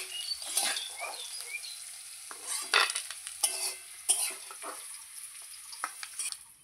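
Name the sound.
mixed vegetable fry being stirred and taken off the pan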